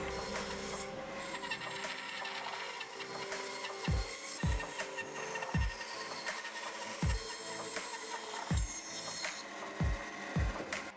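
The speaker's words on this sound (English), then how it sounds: "I cut the side rail shape on the bandsaw" An oak side rail for a chair, cut from 1x4 stock, is shaped on a bandsaw, giving a steady whirring blade hum with a series of sharp, evenly spaced knocks or thumps toward the end, close and fairly loud, with no talking.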